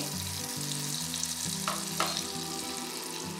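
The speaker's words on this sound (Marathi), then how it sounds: "जिरे हे दोन्ही थोडं परतून घ्यायचं आहे" Cumin seeds frying in butter and a little oil in a pan for jeera rice, a steady close sizzle with a faint stir or scrape partway through.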